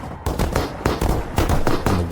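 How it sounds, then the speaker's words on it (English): Ferocious gunfire in a cosmic horror short set in wartime Ukraine: repeated heavy bursts and booming volleys, loud and dense, rolling over one another for a couple of seconds. "The thundering of gunfire becomes ferocious."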